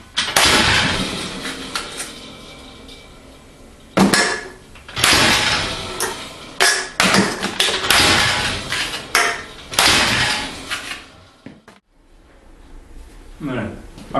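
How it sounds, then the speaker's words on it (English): A treadle hammer repeatedly smashes a pop can in a metal shop, giving a run of loud, sharp metallic bangs at irregular intervals that stand out over background noise. "how could one fail to think of using the treadle hammer as a pop can smasher?"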